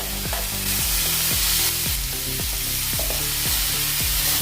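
Finely chopped green peas frying in oil for kachori filling, a dense, loud sizzle with rhythmic scraping and stirring strokes under it, close and continuous.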